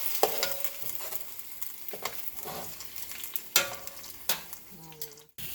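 A pot roast sears in a pot over a low fire as bouillon cubes are rubbed into it: a soft continuous sizzle broken by sharp scrapes and knocks against the pot, with no voices.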